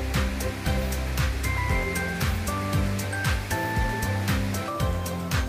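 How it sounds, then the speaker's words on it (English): Rapid water rushes loudly and continuously down a steep mountain valley in Gapyeong, Korea, swollen after heavy recent rain, with a steady roar and low rumbling surges. "It's a steep valley, so water runs rapidly, and it has rained so much recently that there is much more water"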